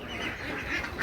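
Ducks quacking on a duck farm, a close, continuous cluster of nasal calls over a short stretch with no talk.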